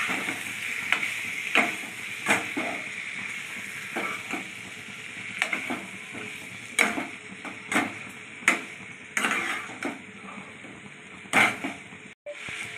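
Chicken pieces sizzle in a hot pan with garlic for an Andhra chicken curry: a steady frying hiss broken by regular sharp pops and stirring clicks, close and fairly quiet, with no talking.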